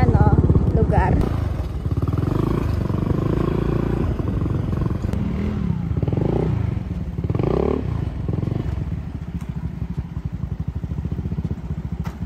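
A motorcycle engine runs steadily during a breakfast ride on rural roads, a close low buzzing drone that rises and falls in pitch as the bike accelerates, with occasional voices over it.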